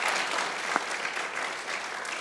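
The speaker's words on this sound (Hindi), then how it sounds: "बहुत तालियां बजाइए लाला के लिए भाई," A crowd applauds for the cricketer Shahid Afridi in a short burst of steady, dense clapping that carries evenly from start to finish.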